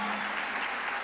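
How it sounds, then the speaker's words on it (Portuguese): A crowd at a private event applauds, a dense, steady wash of clapping hands held at an even level throughout the short moment. "uma salva de palmas para ela"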